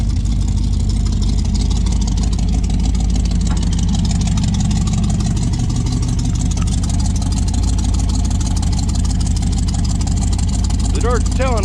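A warmed-up Dodge Dart engine idles nearby, a loud steady low rumble that continues throughout, with voices talking over it.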